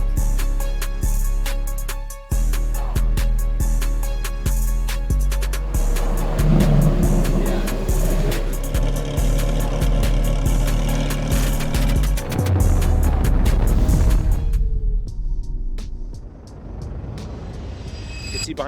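A Porsche Carrera GT engine drones steadily while cruising on the road. The tone rises and falls with gear changes, then the engine drops to a quieter idle toward the end.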